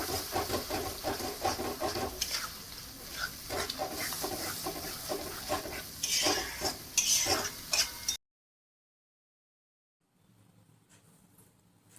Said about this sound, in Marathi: तेल पूर्ण मसाल्याला छान असं सुटेपर्यंत आपल्याला मसाला फ्राय करायचा आहे